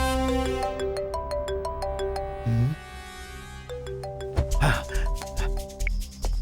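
A mobile phone rings with a melodic ringtone of repeating tones, fairly loud and close, over background music, with brief breaths or gasps in between and no clear talking.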